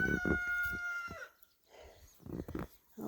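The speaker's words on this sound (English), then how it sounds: "All the chickens and ducks are in here." Chickens and ducks crowd a coop, with a rooster crowing, then clucking and squawking that come close in short bursts with a quiet gap between them, in a snowy setting.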